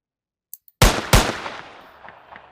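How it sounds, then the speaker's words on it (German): Two loud, close gunshots ring out in a VR shooting simulator game, each a sharp crack with a fading tail, preceded by small clicks and followed by faint ticks. "Ich denke mal, ich kann jetzt einfach schießen"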